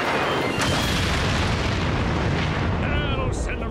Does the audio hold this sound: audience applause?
no